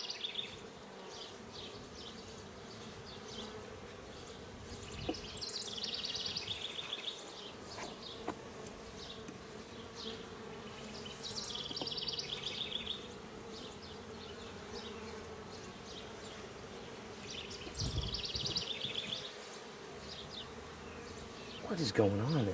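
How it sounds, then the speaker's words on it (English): Honey bees buzz steadily around an open hive during an inspection, a dense droning hum with louder swells as individual bees fly close, while two bees fight among the comb. "These two bees are attacking each other."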